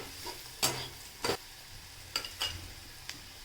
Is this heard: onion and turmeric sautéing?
yes